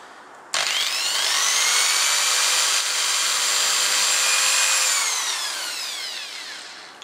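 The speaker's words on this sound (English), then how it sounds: "holding the bridge firmly in place, we'll drill our first hole" A power drill spins up sharply and whines steadily for several seconds, its pitch slowly sagging as it bores into a wooden guitar body to fit a TL-1 bridge, then winds down.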